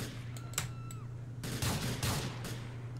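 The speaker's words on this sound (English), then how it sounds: "gun shots have been fired" Gunshots fired in a movie scene: a few sharp cracks followed by a dense burst of rapid shots, loud and close over a steady low hum, with no clear speech.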